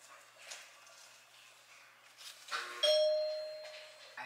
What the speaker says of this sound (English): I just hear the doorbell